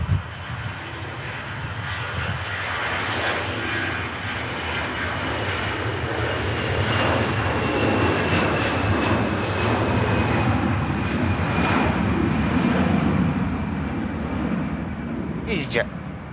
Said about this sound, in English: Next in, we got the Ryanair from Barcelona.